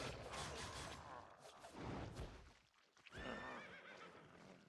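A loud horse neighs and whinnies in the Albion Online game, with clip-clop and brief clashing in a busy mix, and a second whinny rising near the end.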